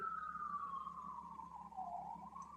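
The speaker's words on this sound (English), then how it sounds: "The police sirens, police cars are going right by my home." Police car sirens pass by outside a home, one steady wailing tone sliding slowly downward, moderately distant and alone without talk.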